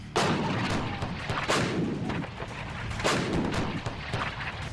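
Repeated heavy booming blasts from M777 howitzers, several loud broadband shots spaced about a second or two apart, with rumbling echoes filling the gaps.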